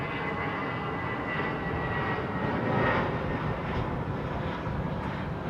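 A heavy jet airliner departing Heathrow airport gives off a steady, loud broadband engine roar that swells slightly mid-way and holds without a break.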